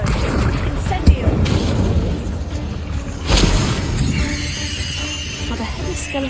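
The Incendio fire spell is cast in Hogwarts Legacy on PS5, giving a sharp burst near one second and a louder fiery blast at about three seconds. A rushing crackle of flame trails off afterward, and a voice speaks over it.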